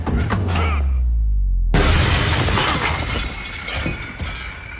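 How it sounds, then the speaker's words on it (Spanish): A glass window shatters with a sudden loud crash that bursts across the whole range, followed by scattering, tinkling debris for several seconds after a low rumbling lead-in. "uno de los Sons escucha el estrépito de la ventana rota"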